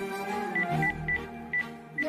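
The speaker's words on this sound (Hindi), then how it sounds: "मैं फोन लगाकर पूछ तो लूं" Telephone keypad tones ring out as a number is dialed on a phone in a radio drama, several short beeps spaced irregularly over a low background hum with no talking.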